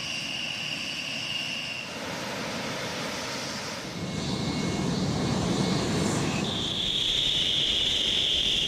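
A Rockwell B-1 Lancer bomber passes with a broad jet roar and a steady high whine. The noise grows louder toward the end, and a sharper tonal scream rises above the rumble.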